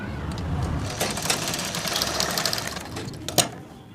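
A sewing machine runs in a steady continuous whir, stitching the neck of a fancy back-neck blouse, with a brief sharper knock near the end and no talk over it.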